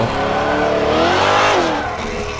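A drifting car in a driving game, its engine revving hard and steady with rising and falling pitch while the tires squeal through the slide, loud and close with no talk.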